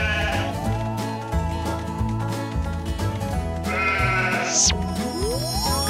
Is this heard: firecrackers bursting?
no